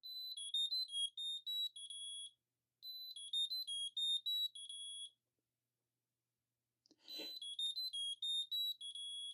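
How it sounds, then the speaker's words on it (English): A Ugreen smart finder tracker plays its alert tune: bright, high-pitched melodic beeping phrases repeated in bursts with short pauses, loud and close, plus a brief handling thump near the end. "I'll get the smaller smart tracker just to make its noise now."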